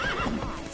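Roach, a horse in The Witcher video game, gives a quick clip-clop of hooves with a brief whinny, close and short, lasting under a second.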